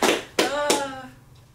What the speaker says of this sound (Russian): аплодирую